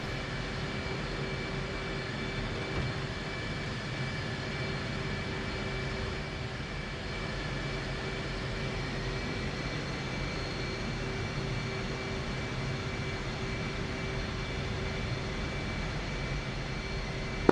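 An F/A-18C jet in the DCS flight simulator taxis toward runway 07, its engines giving a steady, unbroken whine and roar with a faint high tone held throughout.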